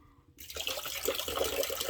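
Beer poured out of a container, a steady close liquid splash and gurgle that starts abruptly after a short quiet moment and continues without talk.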